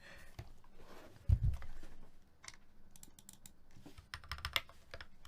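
Computer keyboard keys clatter in quick, uneven bursts close to the microphone, with pauses between runs and a brief low thump early on.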